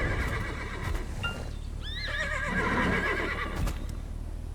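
A horse neighs with a wavering whinny in the video game Black Desert Online, amid soft hoof clops and ambient rustle, moderately close, with a few sharp knocks around it.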